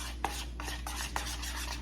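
Food being stirred and mixed in a bowl for a salad with sauce, a steady scraping swish with a few soft knocks of the utensil against the bowl over a constant low hum.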